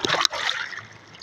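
A live fish, freshly hooked, splashes as it is dropped into water, a short burst of splatter and trickling fading into quieter dribbles.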